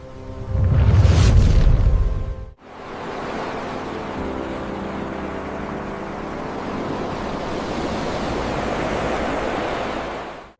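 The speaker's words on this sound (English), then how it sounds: "Distant waves now reach rocks, left dry for hours earlier." Ocean waves wash in against rocks on a tidal shore, a deep booming surge at the start giving way to a steady, broad hiss of surf and spreading water.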